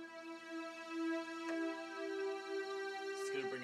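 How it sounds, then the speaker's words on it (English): Second synth layer adding a dramatic swell: a sustained, harmonically rich tone holding steady and shifting pitch slightly midway, with a brief brighter flourish near the end, moderately loud with no talking. "It's going to bring a nice swell to what we're doing, make it more dramatic."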